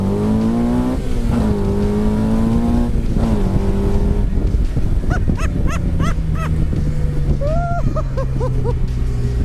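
Honda S2000-powered MK Indy RR kit car on a test drive, its engine revving hard through gear changes with rising and falling pitch, loud and close, with brief squeaky chirps in the latter half.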